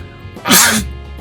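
A single loud sneeze bursts out mid-clip, sharp and close, with a faint low hum and quiet room noise before and after; no one speaks over it.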